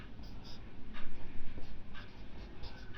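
Pen or chalk writing out a maths answer on compound interest, with several short scratchy strokes in a steady rhythm, fairly close over a low background hum.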